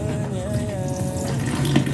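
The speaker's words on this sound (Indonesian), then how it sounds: "Lalu kita bilas." Soaked soybeans rinsed under a running kitchen tap: a steady close stream of water splashing into a bowl, with a brief sharper slosh near the end and no talking.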